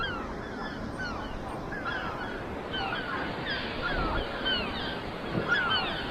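Seagulls call around a coastal nesting spot at Mortehoe in North Devon, several overlapping squawks and cries at middle distance over a steady wash of wind and surf, with no voices.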